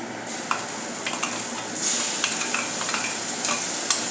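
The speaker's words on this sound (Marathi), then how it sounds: "गॅसची फ्लेम लो करूया आता आपले हिरवे वाटन घालून घेऊया" A green coriander paste drops into a hot pan for daud ka chi bhaji and fries over a low gas flame, giving a steady close sizzle with intermittent scraping stirs of a spatula.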